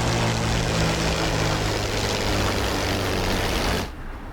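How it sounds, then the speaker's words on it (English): Damaged P-51 Mustang engine in a video game, a loud, rough propeller drone with rumbling low tones that holds steady for a few seconds and then abruptly drops away as the engine cuts out. "The engine starts to sputter."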